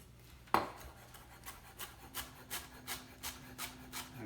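A knife chops coriander stems on a wooden board: one sharp first cut, then about ten steady, evenly spaced chops, close and fairly quiet, with no talking.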